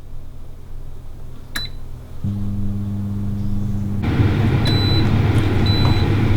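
An air fryer cooking tandoori chicken is switched on: a sharp beep, then a low steady motor hum, followed by a louder, continuous whooshing fan with a few more faint beeps.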